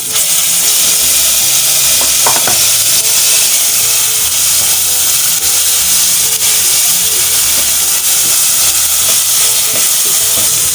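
Garlic and ginger paste sizzling with barley in a pan, a steady loud hiss of frying throughout with a few faint stirring scrapes and knocks, no voices.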